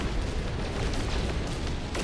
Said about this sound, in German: Kanone!